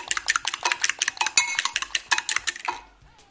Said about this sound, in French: j'ai fini de mélanger mon œuf avec mon lait